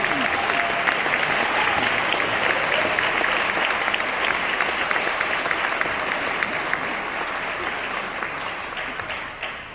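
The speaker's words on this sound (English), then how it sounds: "Please give a big round of applause for Mr. Charles Watford" Audience at a county band concert applauding steadily for about ten seconds, dense, even clapping that fills the room and fades slightly at the very end.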